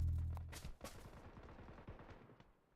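Gunfire in the mobile battle-royale game New State Mobile during a competitive league match, a heavy blast at the start followed by a steady stream of rapid automatic shots.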